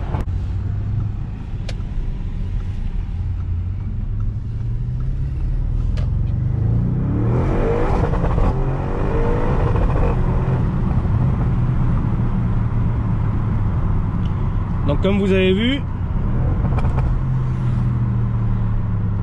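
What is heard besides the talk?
car revving against the rev limiter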